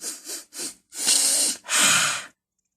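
A voice imitates sniffing: two quick short sniffs followed by two longer, drawn-out noisy inhales, close and breathy, then silence.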